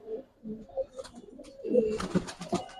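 Giribaz high-flyer pigeons coo softly and repeatedly nearby, low throaty calls overlapping in a quiet setting.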